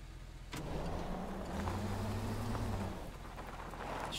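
Car drifting in the video game Teardown, a steady engine drone with a rising tonal whine in the middle, alone and fairly close, over a hissy rain-like texture.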